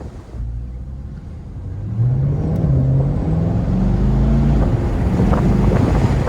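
A C8 Corvette accelerating: the engine drone climbs in pitch and swells louder about two seconds in, then holds a steady, strong roar under buffeting wind noise.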